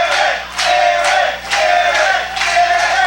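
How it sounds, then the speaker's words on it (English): A wrestling crowd roars in loud repeated surges for a big wrestler, rhythmic chanting swells rising and dipping about every half second under the arena din. "Crowd getting loud for the big man."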